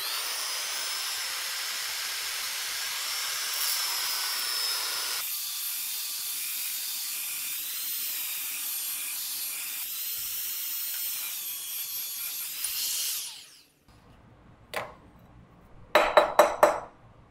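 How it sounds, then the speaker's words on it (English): Band file sander grinding out a weld seam inside a metal tube, a steady high hissing whine that shifts pitch partway through, then cuts off, followed by a few sharp metallic clanks and taps. "you could also just stick one of these in there and grind that weld out if you had to"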